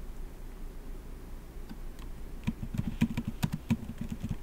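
Keys tapped on a computer keyboard while entering a search term in a cloud console, a faint quiet start giving way to a quick cluster of close clicks in the second half.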